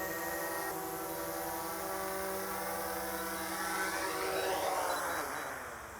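DJI Mavic 2 drone propellers buzzing as the throttle is lowered, a steady high whine that shifts and softens toward the end, faint and without talk.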